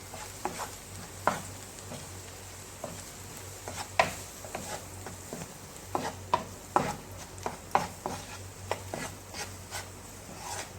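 Ground black pepper and spices being stirred in a pan on a tawa while making chicken bread pizza sauce, with irregular scraping and tapping strokes of a spoon over a faint steady sizzle, close and moderately quiet, no talking.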